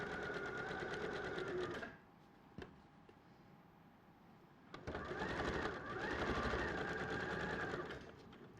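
A sewing machine stitching a quarter inch seam, running in two steady whirring bursts split by a short pause with a click, close and clear.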